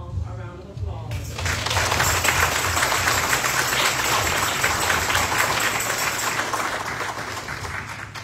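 Sustained, dense applause from a congregation at a home-going funeral service, honoring the family of the deceased mother; a loud, steady wash of clapping swells in after a brief pause and carries on throughout.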